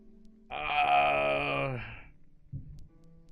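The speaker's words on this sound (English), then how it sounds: "Now I'm even yawning." A person gives a long, voiced yawn that swells and then tapers off over about a second and a half, close by, followed by a short breathy sound.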